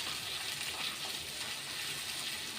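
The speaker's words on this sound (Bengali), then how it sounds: "জিরে গুঁড়ো দিয়ে আমি ভালো করে এগুলোকে কষে নেব" Steady hiss and sizzle of kofta curry masala with cumin powder frying in a pan for jackfruit kofta, continuous and close with no talk.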